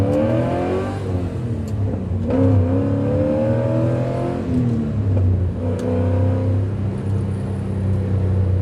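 Porsche 944 with an LS V8 swap, its engine revving up in rising and falling pitch sweeps and then settling back to a steady idle, loud and close throughout with no talking.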